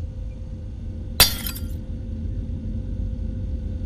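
Glass breaking in the Garten of Banban 2 game: a single sharp shatter with a short tinkling tail of fragments, standing out above a steady low rumble.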